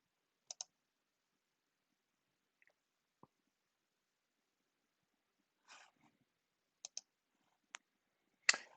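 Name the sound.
mouse clicking in computer admin setup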